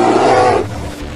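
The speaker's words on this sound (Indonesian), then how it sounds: "Oh, Beruangnya langsung teriak nih pemirsa." A bear in the GTA 5 video game lets out a single loud, close, growling roar that holds for a moment, then drops off into a lower rumbling tail.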